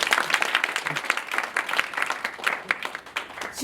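Audience in a company lecture hall claps to welcome a speaker to a business-manners talk, a brisk, dense burst of applause with distinct individual claps, loud at first and thinning slightly toward the end.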